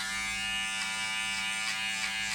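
Electric hair clippers fitted with a 0.5 guard trim a beard, giving a steady, loud, close-up electric buzz that holds constant throughout with no talking.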